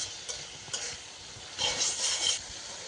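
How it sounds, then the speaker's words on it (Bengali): Spices frying and being stirred in a pan for a shrimp and potato dish with stems, a soft sizzle broken by brief scrapes, then a louder burst of hissing as the mixture is moved around. "ভালো করে মশলার সাথে কষিয়ে নিতে হবে। কষিয়ে নিচ্ছি, ভালো করে নেড়েচেড়ে"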